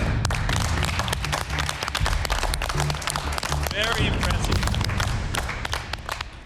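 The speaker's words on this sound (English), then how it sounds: "Let's give Mr Shu a big round of applause, eh?" A crowd of cooks on a cooking competition set gives a big round of applause for a master noodle maker, sustained dense clapping with a brief spoken voice over it.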